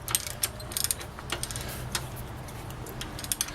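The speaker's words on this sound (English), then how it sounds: "I have plenty of room for the big ratchet. And we're going to sock that on there nice and tight" A big ratchet tightens an outer tie rod end nut on a 2003 Chevy Malibu, making quiet, rapid clicking pawl ticks in an uneven run over a low background hum.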